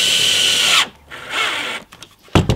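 Cordless drill driving screws into a wooden sauna wall, a loud close whir that stops abruptly, followed by shorter bursts and a final quick spin.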